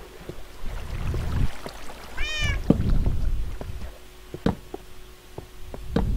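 A single cat meow from the Minecraft video game, mid-level and brief, set against faint clicks and low rumbling game ambience.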